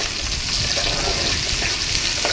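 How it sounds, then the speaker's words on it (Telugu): Curry leaves and green chilies fry in hot oil in a pan, a loud, dense, continuous sizzle with no one talking. "ఇలా ఫ్రై చేసుకుంటే బాగా అవి రెడ్డిష్ కావాలి."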